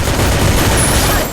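Rapid gunfire from the Free Fire video game, a dense, loud, continuous burst of overlapping shots with no pauses.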